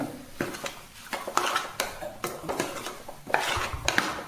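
A spoon scrapes and clinks against a pan while cauliflower and chana dal fry are stirred, a run of irregular close metallic knocks and scrapes with only a faint sizzle underneath.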